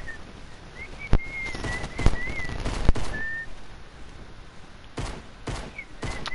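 Pistol gunshots in a video game: several sharp, isolated cracks spaced irregularly, with faint whistling tones and background noise between shots.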